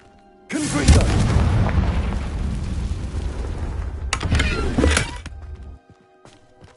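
A Confringo blasting spell explodes in the Hogwarts Legacy video game, a loud booming blast with a rumbling tail lasting several seconds and a second sharp burst before fading out.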